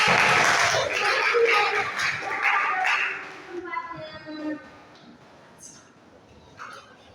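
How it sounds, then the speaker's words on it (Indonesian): A class of high school students claps together in a dense, steady burst for about three and a half seconds, then the applause thins into quieter scattered sounds and a voice. "Oke, tepuk tangan dong."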